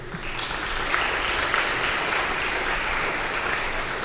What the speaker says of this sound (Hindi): तो एक बार हमारे जूरी के मेंबरान के लिए ज़ोरदार तालियां हो जाएं